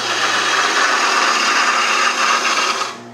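A gouge cuts into a spinning wooden table leg on a lathe, giving a loud, steady rushing scrape for about three seconds that fades at the end, close with no talk.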